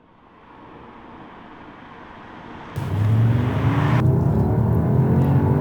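An Audi S3 8Y saloon with a seven-speed twin-clutch gearbox and four-wheel drive drives on the road, its engine hum rising as it accelerates and then settling into a loud, steady drone with road noise close by.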